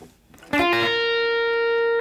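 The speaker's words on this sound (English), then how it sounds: "And now here's a little cool rake or mini sweep." Electric guitar rake, a pick dragged quickly across several strings into a single sustained ringing note, a brief scratchy burst then a clean held tone, alone with no talk.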